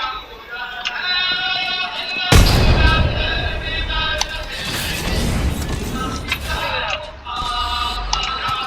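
A frag grenade goes off in a shooter video game with a sudden heavy boom that rolls into rumbling debris and scattered gunfire, over a continuous tonal game soundtrack.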